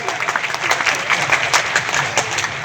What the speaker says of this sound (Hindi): हाथ खड़े करके तालियां बजाइए